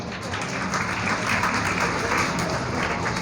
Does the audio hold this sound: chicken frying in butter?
no